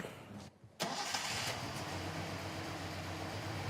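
A 1978 Datsun 260Z engine cranks, falls quiet briefly, then catches and keeps running with a loud, rough, steady idle close by.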